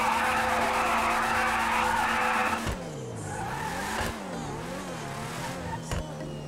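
A supercar in the GTA Online video game skids with loud, sustained tire squeal, then engine revs rise and fall through quick gear changes, close and alone.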